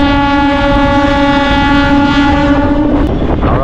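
A Howrah to Digha local passenger train runs steadily, a loud continuous rumble with a sustained droning tone throughout, shifting slightly near the end.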